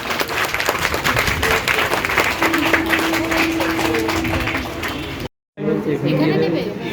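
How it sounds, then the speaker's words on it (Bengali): Loud, sustained clapping from a crowd of students at a law college event, dense and continuous with crowd murmur and talk mixed in, briefly cut off near the end before noise resumes. "জোরে হাততালি সবাই মিলে।"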